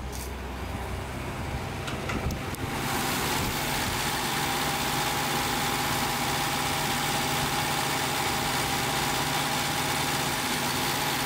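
A Toyota 4AG-E engine idles in a KE70 Corolla, a steady loud drone with a low hum that holds even after a brief shift in tone near the start. No one speaks.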